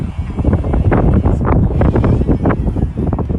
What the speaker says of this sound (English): Oh, sorry about the winds, can't control it.